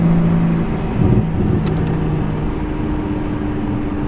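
A BMW 335i accelerating in a first gear roll, heard from inside the car as a loud, steady engine drone with a low rumble, no talk.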